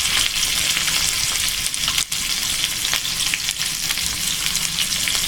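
Capsicum and onion frying in sunflower oil, a loud, dense, unbroken sizzle with faint stirring and one brief dip partway through.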